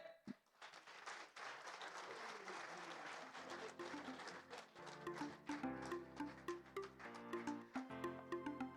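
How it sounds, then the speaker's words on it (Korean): An audience at a Korean industry federation's 40th anniversary ceremony bursts into loud applause as a rice cake is cut, clapping fading into rhythmic background music. "셋과 함께 큰 박수 부탁드리겠습니다"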